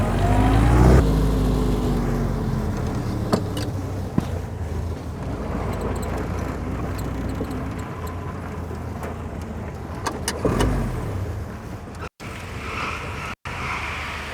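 A vintage military car with unassisted manual brakes drives along, its engine a steady loud rumble with gear and rev shifts, rattles and knocks from the rustic body, recorded from inside the cabin.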